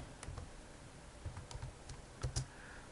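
Quiet computer keyboard typing with scattered clicks and a few brief bursts of keystrokes, some pairs close together, heard alone without talk.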